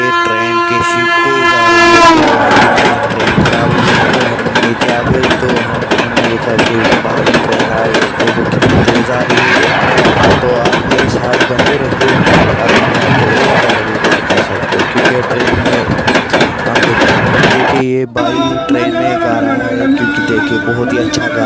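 A fast train rushes past at close range, its horn blaring in long sustained tones over a loud, continuous roar and clatter of wheels, with a brief cut near the end.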